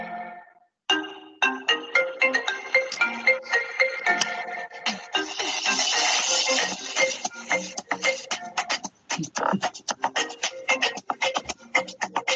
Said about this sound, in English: What if the iPhone ringtone was made in South Africa?